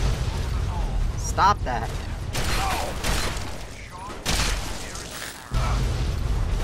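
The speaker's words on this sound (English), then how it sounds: "Stop with the explosions, please." Explosions and bursts in the video game Fallout 3, loud booms and crackling blasts recurring every second or two, with a voice speaking over them.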